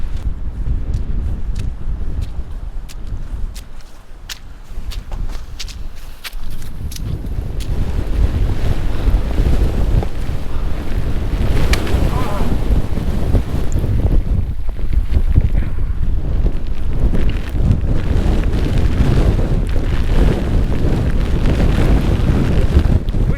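Strong wind roars across an open fell in the Eastern Fells, buffeting the microphone in a loud, continuous rumble that builds and stays heavy throughout, with no voices.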